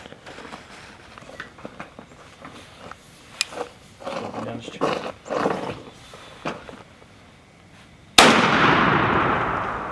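A shotgun fired with light loads, not turkey loads: one loud, close blast with a long fading tail, following several seconds of people talking and handling noise.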